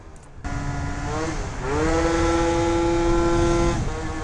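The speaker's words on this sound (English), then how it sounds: "The bike still sounds good out here." A small stunt scooter engine revs and holds a high, buzzing whine, rising in pitch then settling, loud and close with no talking.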